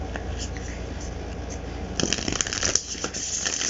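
A deck of matte-stock cards being shuffled by hand, soft papery riffling that grows louder and crisper partway through, close by.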